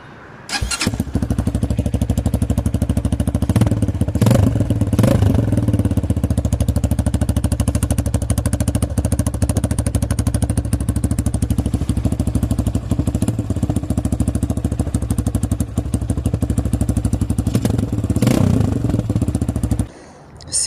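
A Shineray VXR 300 motorcycle engine runs steadily and loudly from start to finish, a rough continuous rumble with occasional revs and clatter, then cuts off at the end.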